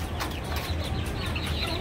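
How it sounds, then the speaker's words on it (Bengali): Three hens and a rooster kept together in a farm cage cluck and murmur in a close, continuous chatter of short calls, moderately loud, with no one talking. "এখানে 3 পিস মুরগি 1 পিস মোরগ,"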